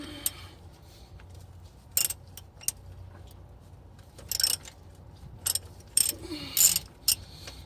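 A ratchet removes the pan bolts on a 4L60E transmission in short bursts of sharp, close clicking separated by quiet pauses, with faint metallic handling in between.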